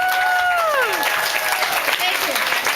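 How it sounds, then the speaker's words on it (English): Audience at a rally in Troy, Michigan applauding a councilwoman, continuous crowd clapping throughout, with a gliding tone at the start and talk underneath. "Please give a warm round of applause"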